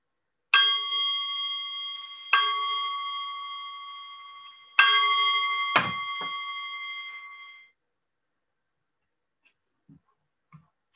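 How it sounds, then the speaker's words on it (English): A meditation bell is struck three times, each clear metallic ring sustaining and slowly fading, followed by a faint low knock and then near silence. "So I'll go ahead and ring the bell, and then I'll also ring the bell at the end."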